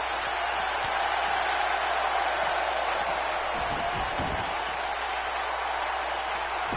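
A wrestling crowd cheers for Johnny Gargano in a steady, dense roar of applause and shouting that holds at an even level throughout, with no clear break.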